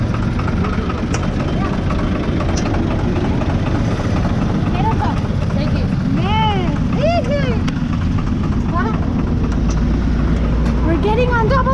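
A tractor drives along with its engine droning steadily and loudly throughout, while several excited voices talk and shout over it.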